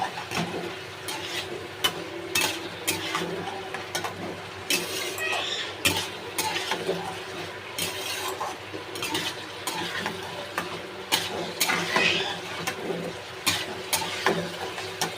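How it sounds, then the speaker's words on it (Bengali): Soybean and potato curry being stirred and fried in a pan, with steady sizzling under frequent scraping and clinking of a spoon against the metal, close and continuous throughout. "এটাকে ভালো করে কষে নেব, বেশ কিছু করে কষে নেব।"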